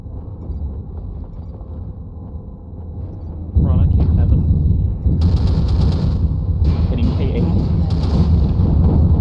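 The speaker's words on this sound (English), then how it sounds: "Artillery strike online." An artillery strike lands in MechWarrior Online on the Polar Highlands map, a heavy rumbling barrage that swells partway through and stays loud, with booms and mech weapon noise layered under ongoing game sounds and a voice.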